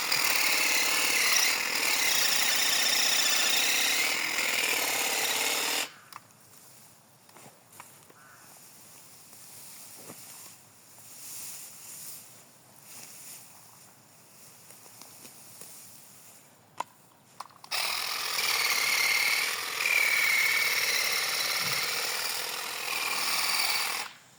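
A Dnipro-M 18V cordless hedge trimmer cutting ornamental grass such as pennisetum and miscanthus: a loud, steady motor buzz with rustling cuts runs for several seconds, gives way to quieter handling with sharp snips, then comes back at full buzz.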